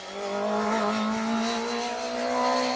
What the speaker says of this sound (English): Great sounding little car, that,